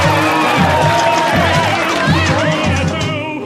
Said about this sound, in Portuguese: Palmas para esse carro. E com gritinhos.